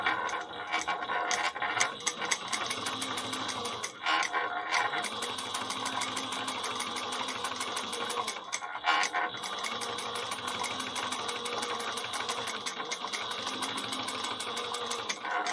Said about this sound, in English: I'm going to top stitch 1/8 of an inch away